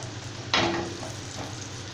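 A mint chapati laid on an oiled hot griddle gives a sudden short sizzle that fades into a quiet, steady crackle, close by with no talk.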